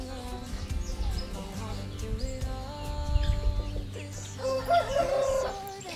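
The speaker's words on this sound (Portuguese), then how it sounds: "Ao longo do tempo, as galinhas vão desenterrar." Chickens on a farm cluck and a rooster crows, with several overlapping calls in a busy, close barnyard chorus and occasional louder bursts.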